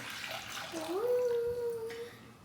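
Warm water for activating yeast in homemade pizza dough is poured into a bowl, a faint, brief trickle with a soft gurgling tone in a quiet kitchen.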